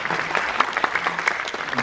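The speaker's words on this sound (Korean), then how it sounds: "대작이라고 생각하시면 박수 좀 한번 쳐주세요." Audience applause at a post-screening talk for the film Bride of Rip Van Winkle at CGV Apgujeong, a short burst of close, crisp clapping with some individual claps standing out.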